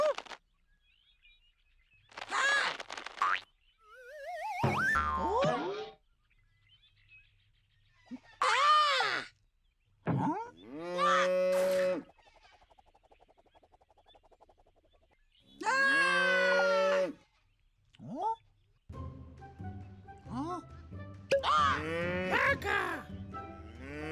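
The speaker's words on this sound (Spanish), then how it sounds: "¡Vaca!" Several drawn-out cow moos repeat at intervals between silences, some long and wavering and others short, loud and close. The calls sit in a children's animal-sounds vocabulary lesson.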